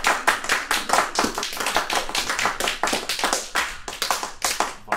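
Enthusiastic applause from a live audience at the close of a talk, a dense patter of many hands clapping steadily throughout, close and loud, with no one speaking.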